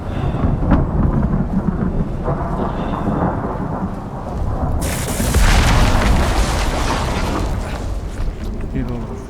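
A thunderstorm in the Icarus video game: loud, continuous rain with deep rolling thunder that swells into a heavier crash partway through, with someone talking over it.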